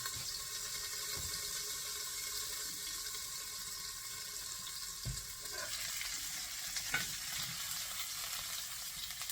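Lamb chops sear in a pan on an old wood cookstove, a continuous broadband sizzle and hiss at steady level with a few faint clinks and knocks, no voices.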